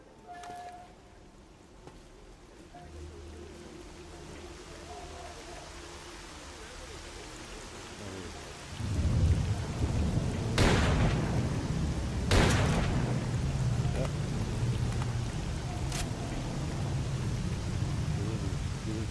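Steady rain hisses in S.T.A.L.K.E.R. Call of Pripyat with the Misery mod, then heavy thunder rolls in and several sharp cracks strike close by over continuing downpour.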